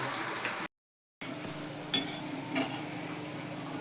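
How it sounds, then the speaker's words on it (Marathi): Soaked chana dal frying in hot oil for a crisp salted snack, giving a close, steady bubbling sizzle with a few faint clinks of stirring; the sound cuts out completely for about half a second. "तळून घेते सगळी डाळ"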